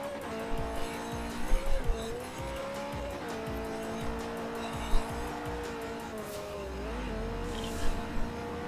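A race car in Forza Motorsport 4, tuned with very soft front and stiff rear settings, is driven around a circuit with a steady, loud engine drone that rises and dips with throttle, plus occasional tire squeals as the back end slides out.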